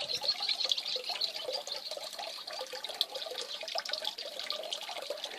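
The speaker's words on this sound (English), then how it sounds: "Here's a picture of the water feature which I created this week to give the sound, as you can hear, of the water," A newly built garden pond water feature trickling and splashing, a soft continuous watery patter that stays fairly quiet and steady throughout with no voices.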